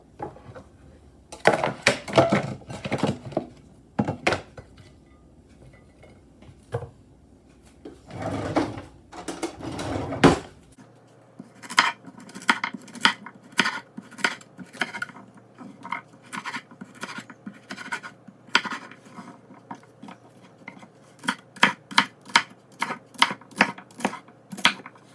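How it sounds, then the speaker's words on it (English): A knife chops one big carrot and two sticks of celery on a wooden board in bursts of sharp, close taps, with brief pauses between rounds and a steady rapid rhythm later on. "now let's chop up the carrots and celery"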